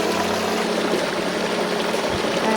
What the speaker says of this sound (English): you can see the water here, the actual water, the pure flowing water